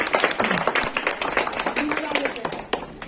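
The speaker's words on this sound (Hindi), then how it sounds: "यदि आप सभी लोग को पसंद आया हो तो प्लीज जोरदार तालियां बजा दें।" Audience at an outdoor street play on family planning claps in an uneven, moderately loud patter, with voices talking over it.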